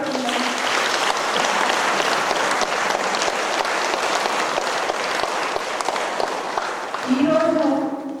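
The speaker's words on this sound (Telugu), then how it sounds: "మనం ఒకసారి గట్టిగా చప్పట్లు కొడుతున్నాం" An audience at an anniversary celebration breaks into loud, dense clapping that holds steady for several seconds, with a voice speaking over it near the end.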